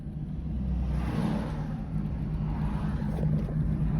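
A Volkswagen Mk3 VR6 turbo car drives along, its engine a steady low droning rumble heard from inside the cabin, with road and wind noise blending in.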